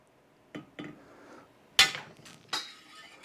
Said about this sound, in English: Keep the fingers out of the way of the hammer. And pound.